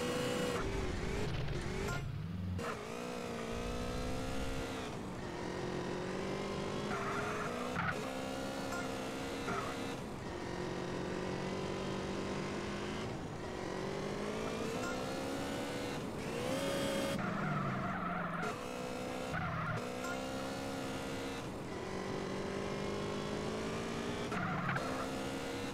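A motorcycle ridden in the video game GTA San Andreas after a race: a continuous, loud, buzzing engine whine that rises and falls with throttle and shifts, and includes occasional skid-like squeals, with no voice over it.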